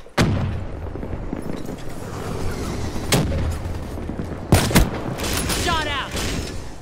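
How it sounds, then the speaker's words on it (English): A video game firefight brings several loud booms and gunshot bursts, including a grenade blast, spread across a noisy background with voices talking now and then. "HCXD, grenade. Inbound."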